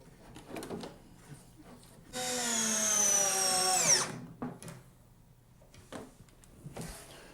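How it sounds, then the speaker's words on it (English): A power drill drives screws to fasten hinges onto a wooden telescope box, a loud whining burst of about two seconds that rises in pitch, set between quieter handling sounds of the workshop. "now we have to fasten have to screw the hinges to the box itself."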